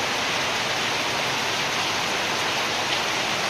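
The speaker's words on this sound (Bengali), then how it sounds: "প্রতিদিনই বৃষ্টি, অবিরত বৃষ্টি নামে" Steady, continuous rain pours down in a dense, unbroken hiss, loud and close, with no voices.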